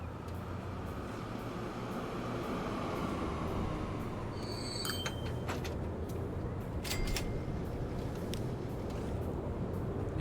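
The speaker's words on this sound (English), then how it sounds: "Yeah, that train just fits." Train running in the railway building game Transport Fever 2, a continuous rumbling roll of wheels on track with brief high metallic squeals and clanks partway through, steady and fairly close.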